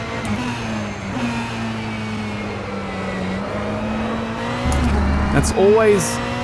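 A GTE race car in rFactor 2 howls along at steady high revs, its engine note shifting with gear changes, a tyre squeal rising near the end, while someone talks over it throughout.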